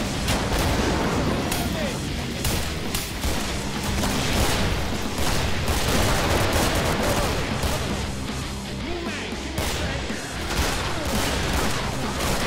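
Rapid, sustained automatic weapon fire in the Killing Floor game, a dense continuous stream of shots lasting throughout at close range, with game sounds layered over it.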